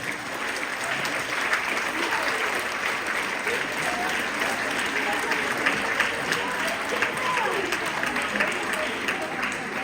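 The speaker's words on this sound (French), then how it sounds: "On vous demande de l'applaudir très fort" An audience at a women's rights event against female genital cutting claps loudly and continuously, a dense, sustained wash of applause that holds steady throughout.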